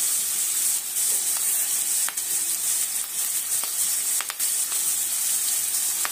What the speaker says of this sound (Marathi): कांदा आणि टोमॅटो घालून व्यवस्थित असं परतून घ्यायचं आहे।